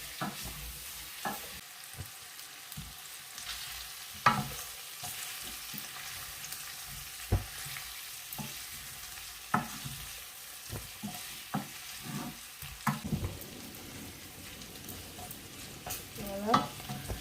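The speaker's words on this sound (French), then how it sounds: "Et je continue à tourner." Smoked meat and okra sauce stirred in a pot, with repeated spoon scrapes and taps at an uneven pace over a low, steady simmering sizzle.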